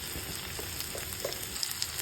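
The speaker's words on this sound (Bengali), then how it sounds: "পেঁয়াজগুলো এমন ভাজা হয়ে গেছে রসুন বাটা দিয়ে দিলাম" Onions frying in a pan with garlic paste just added, a steady soft sizzle with faint crackles and occasional stirring clicks, no voices.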